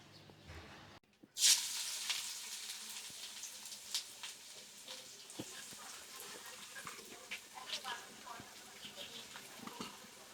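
Sliced onions sizzle in hot oil for biryani beresta, with a sharp burst of hissing as they hit the pan, then a steady soft crackle with light stirring scrapes.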